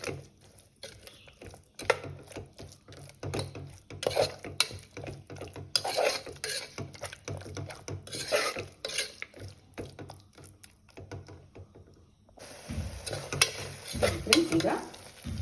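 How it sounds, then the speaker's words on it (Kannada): Masala paste for mushroom biryani fries in a pan, a continuous close sizzle broken by rapid, repeated scraping and stirring strokes of a spatula, with a brief lull before the frying and stirring resume. "ಇದು ಹಸಿ ಸ್ಮೆಲ್ ಹೋಗುವವರೆಗೂ ಸ್ವಲ್ಪ ಫ್ರೈ ಮಾಡ್ಕೋಬೇಕಾಗ್ತದೆ."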